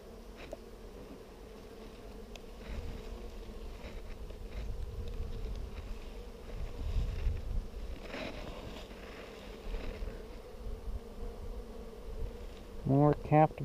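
Honey bees buzz steadily around an open hive during a brood inspection, a low continuous hum rising and falling with a few closer passes, and a sharper buzz near the end.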